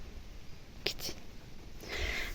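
A small cat sneezes indoors, a couple of quick faint snorts followed by a breathy puff a moment later in a quiet room.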